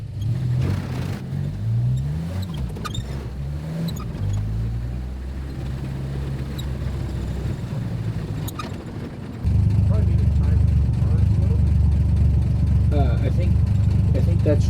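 An old car engine is test-started and run, a low rumbling idle with shifting pitch that gets louder and steadier partway through, with a voice talking over it.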